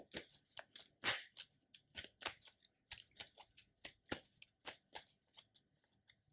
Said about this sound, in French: on mélange les cartes de rencontre